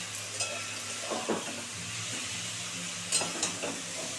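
Small sea fish (mourala) cook in a frying pan, a soft constant sizzle and hiss under a few gentle scraping stirs from a utensil, close and fairly quiet.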